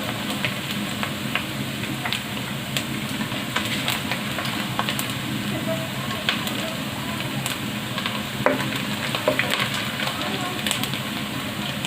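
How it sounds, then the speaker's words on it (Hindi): Onions frying in a pot with cinnamon, black and green cardamom and cloves for a dehgi-style achari chana pulao, crackling in a continuous close sizzle with occasional sharp pops, faint talk in the background. "प्याज को थोड़ा सा गोल्डन करेंगे।"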